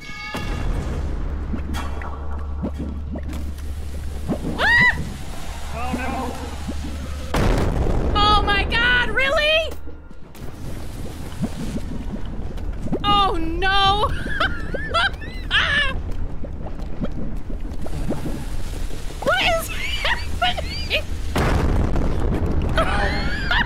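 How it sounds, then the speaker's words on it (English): A bomb goes off in the co-op horror game Content Warning, a heavy boom with low rumble among game noises and anxious voices talking throughout. "It threw a bomb at itself?"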